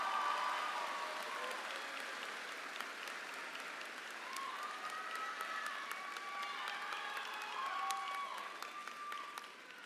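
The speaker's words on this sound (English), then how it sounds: "we can give them a big round of applause" A high school graduation audience applauds student council representatives walking up, sustained dense clapping with some cheering mixed in, steady throughout and slightly fading at the end.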